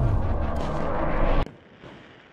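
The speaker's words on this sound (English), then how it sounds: "This is a 12-gauge M4 shotgun." 12-gauge M4 shotgun firing: one loud, booming blast with a heavy low rumble that cuts off sharply, leaving a faint outdoor tail.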